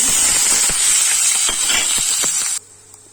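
Loud, bright sizzling of chopped onions and garlic frying in hot oil, a dense steady hiss with small pops, then it cuts off abruptly near the end.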